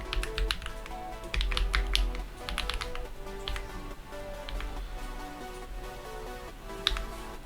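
Someone types on a computer keyboard at a terminal, with bursts of quick, close key clicks and pauses between them, set against a faint background hum.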